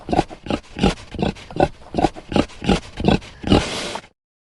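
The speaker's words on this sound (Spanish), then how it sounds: "Cerdo." A pig grunting in a steady series of about ten rhythmic, fairly loud oinks, ending with a short noisy squeal-like burst, with no one speaking.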